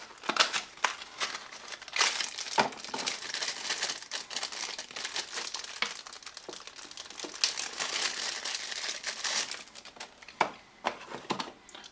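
Plastic packaging crinkling and crackling as a Lampwin RGB cabinet lighting kit is unpacked, with irregular bursts of rustling and crumpling over several seconds, close up and with no talk.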